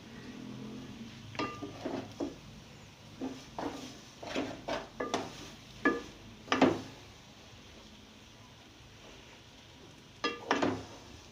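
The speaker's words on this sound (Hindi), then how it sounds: "किशमिशें, पिस्ते बादाम और ये पिसा हुआ खोपरा, और इसको डालकर मैं बहुत अच्छी तरह मिक्स कर दूँगी।" Dried fruit, raisins, pistachios, almonds and ground coconut being stirred into chana dal halwa in a pan, giving a series of soft clinks and scraping knocks in irregular bursts, fairly close and quiet, with no talking.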